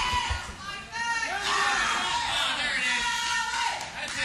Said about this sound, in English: this crowd's starting to get behind Allen